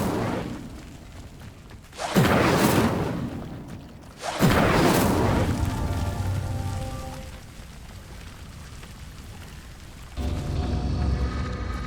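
Two loud whooshing fire bursts from the Incendio spell lighting pyres in Hogwarts Legacy, each a roaring swell that fades into crackling burn, with a softer rumbling tail at the end.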